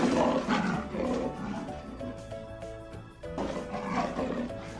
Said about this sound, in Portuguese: É do leão!